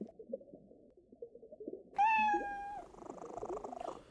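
A cartoon cat meows once, loud and close, a single drawn-out cry over soft background music in the 2003 puzzle game I Spy Fantasy.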